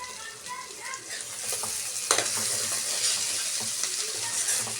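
Small bitter gourds fry in hot oil with a constant crackling sizzle, close up, with scattered sharper pops and a faint stir.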